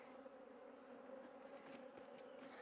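A steady, close buzzing hum of many honeybees around a hive feeder, continuous and moderately quiet, with no voices.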